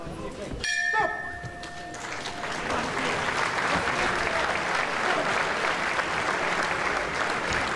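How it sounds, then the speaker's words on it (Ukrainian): Boxing arena crowd applauding at the close of the eleventh round, a loud sustained wash of clapping and cheering that swells after a sharp ringing bell near the start. "цілком заслужені оплески."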